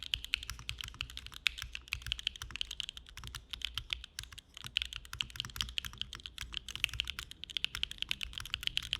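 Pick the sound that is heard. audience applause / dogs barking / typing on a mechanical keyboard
typing on a mechanical keyboard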